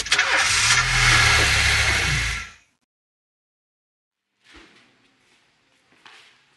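A car engine in the This Is the Police video game roars loudly for about two and a half seconds, then cuts off abruptly into silence, followed by a few faint, scattered noises.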